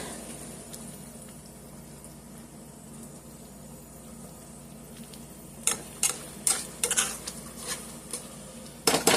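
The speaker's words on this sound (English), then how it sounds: "I'll just go ahead and add those larger pieces of liver." Pieces of beef liver drop into a pan with onions and gravy, giving clattering knocks and scrapes against the pan over a soft, steady simmer in the background. The sounds are close, with no talking.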